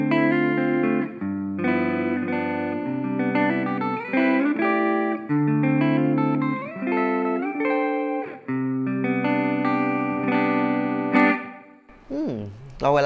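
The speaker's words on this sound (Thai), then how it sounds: "อันนี้ก็เป็นแบบเสียงคลีนเนี่ยลองฟังดูคร่าว" A NUX Mighty Lite BT MKII mini amp set to a clean preset plays a guitar line of ringing, sustained notes and chords in phrases with short gaps, closing with a brief scrape of string noise.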